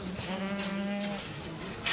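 Goats on a French farm, a dairy herd of about 450 milking goats, give a single drawn-out bleat, close and fairly clear against a low barn background.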